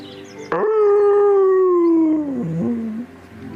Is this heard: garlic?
no